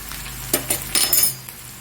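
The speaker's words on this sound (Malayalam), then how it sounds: "അപ്പോൾ ഈ സമയത്ത് നമുക്ക് പൊടിയെല്ലാം കൂടെ ഒന്ന് ഇട്ട് കൊടുക്കാം. സ്വല്പം മല്ലിപ്പൊടിയാണ് ഇട്ട് കൊടുക്കുന്നത്" Coriander powder tipped into a pan of frying sardine curry masala, giving a few soft sizzling bursts and light stirring scrapes close by, with no talk.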